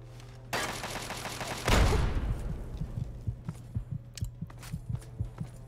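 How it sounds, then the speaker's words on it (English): Mercenaries firing guns at the player in the video game Fallout 3, starting with a sharp burst of shots and a loud impact, then a run of quieter, evenly spaced thumps over a steady low hum. "Man, they're really good at firing the guns."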